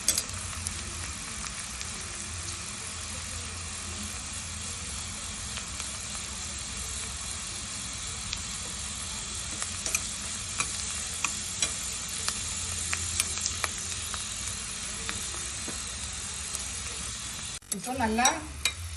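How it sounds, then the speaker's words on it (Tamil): Onions and curry leaves sauté in a pan with a steady, low sizzle throughout, soft scattered crackles and a brief louder scrape of stirring near the end. "இப்போ நல்லா வெங்காயம் எல்லாமே நல்லா வதங்கி நல்லா வாசனை வந்துடுச்சு."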